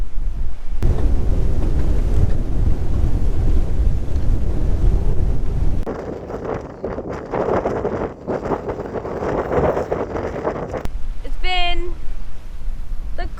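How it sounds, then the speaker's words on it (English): Steady broadband wind roars across a sailing boat at sea off Cape Mendocino, loud and constant for the first half, then gusting more unevenly, with a brief squeaky tonal sound near the end. "it just seems like every single time we get close to where we're supposed to be landing, the wind picks up"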